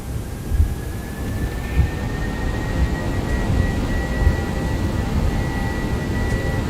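Airbus A321 jet engines at takeoff power in X-Plane 11, a steady loud roar with a thin rising whine layered over deep rumble, continuous with no voices.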